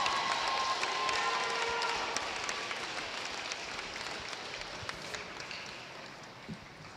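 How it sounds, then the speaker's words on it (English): Applause from a high school crowd honoring the District 5 volleyball team, steady clapping with some cheering that gradually fades over several seconds. "Now let's get a big round of applause for your regular season All District 5"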